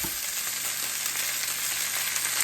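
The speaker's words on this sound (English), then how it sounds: "See? Just fry it up." Bacon ends and pieces fry in a pan, giving a steady, close crackling sizzle that holds evenly throughout without any voices.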